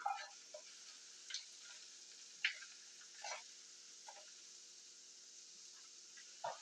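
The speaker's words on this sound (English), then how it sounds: "I like to take the powder and I like to cook it in the ground beef" Taco seasoning powder cooking into ground beef in a pan gives a soft, steady sizzle with occasional faint crackles and ticks, quiet and continuous with no talking.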